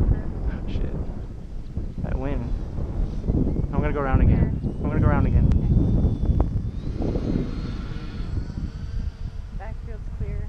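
A P-38 model airplane flying on a windy flightline, its engine drone passing by under heavy wind buffeting while several people talk nearby throughout.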